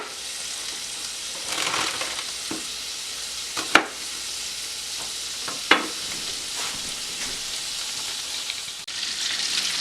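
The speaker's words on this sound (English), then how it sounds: "I'm waiting for this bacon to fry down" Bacon fries steadily in a pan for a Brussels sprout hash, a constant loud sizzle with a few sharp clinks of a utensil against the pan.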